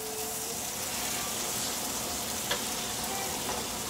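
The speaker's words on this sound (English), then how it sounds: "Our bacon is frying amazingly, y'all." Bacon strips frying in a pan of hot grease, a steady close sizzle and crackle with a few small pops, no voices.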